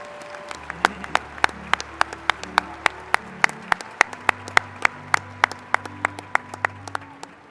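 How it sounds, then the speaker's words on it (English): Commencement audience applause for bachelor's degree recipients at West Virginia University's agriculture college ceremony, a thin, sparse patter of clapping with distinct, evenly spaced sharp claps standing out over a faint, steady hum. "Could we please have a round of applause for all our bachelor's recipients?"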